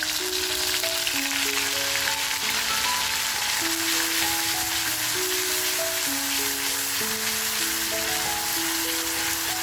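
Ground green masala with red chilli hitting very hot oil gives a dense, even sizzle that runs throughout, while background music plays softly over it and no one speaks.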